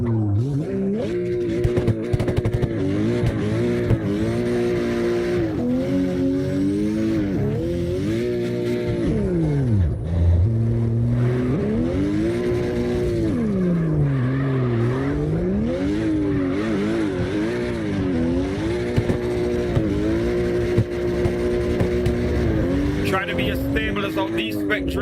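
Cars drift in the CarX Drift racing game with a loud, continuous engine wail that rises and falls as revs swing, plus brief tire squeals, while people talk over it.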